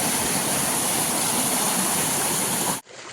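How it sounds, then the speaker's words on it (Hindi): Water gushing steadily near a bridge, a dense continuous rush that holds loud and even before cutting off abruptly near the end. "एक पुल का पानी यहाँ जा रहा है, दूसरे पुल का पानी वहाँ जा रहा है, फिर भी इतना एक्स्ट्रा पानी है यहाँ पे।"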